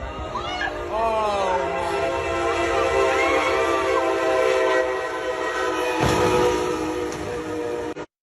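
A train passes over a level crossing where a car is stuck on the tracks, its horn blaring loudly and continuously for several seconds over rumbling wheels, close and dominant, ending abruptly.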